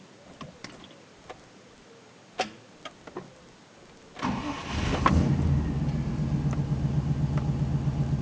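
A Rover V8 with a newly replaced distributor cap, rotor and ignition leads cranks briefly after a few faint clicks, then catches and settles into a steady, close idle.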